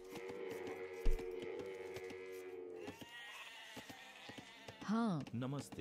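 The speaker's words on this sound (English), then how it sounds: "Kill a sheep and don't take it." In Age of Empires 2, in-game sheep let out wavering, nasal bleats near the end, loud and close, following a stretch of clicks and tonal game sounds.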